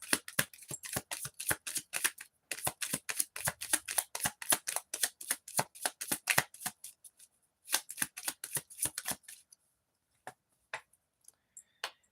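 Playing cards shuffled and drawn for a card reading, a close run of quick crisp riffling snaps in bursts with short pauses, thinning to a few separate flicks at the end, no talk.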